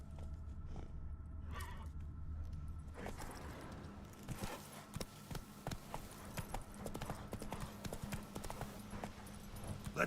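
Roach the horse galloping in The Witcher 3, rapid rhythmic hoofbeats that pick up after a quieter start and pound steadily at close range, with faint ambient sound beneath.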